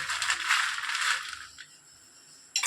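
Crunchy fried snack made from leftover rice being snapped apart, a dry crackling crunch up close that fades, then one more sharp crack at the end.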